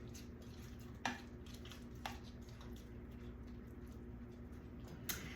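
Pork chop casserole being stirred in a pan, giving a few sparse utensil clinks and scrapes against the pan about once a second over a low steady background, faint and close.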